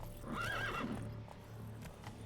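A horse in The Witcher 3 lets out a high, wavering whinny, followed by faint clip-clop hoofbeats under a low steady ambient hum, fairly quiet overall.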